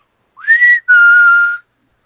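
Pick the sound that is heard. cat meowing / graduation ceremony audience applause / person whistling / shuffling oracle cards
person whistling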